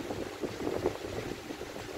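A split dried red chili and green chilies fry in oil with panch phoron for a tempering, making a close, steady bubbling crackle at moderate volume with no voices.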